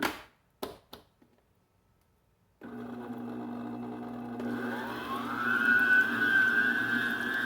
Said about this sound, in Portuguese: aqui eu vou utilizar a batedeira